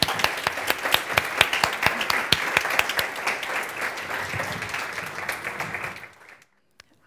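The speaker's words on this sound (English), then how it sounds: "please give another big round of applause to our panelists" An audience at a conference on artificial intelligence and the Sustainable Development Goals applauds the panelists, a full, crisp round of many hands with sharp individual claps, fading out near the end before a brief silence.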